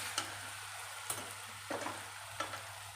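Brinjal masala with double beans frying in oil in a pan, a steady soft sizzle broken by a few brief stirring scrapes, close and moderately quiet with no talking.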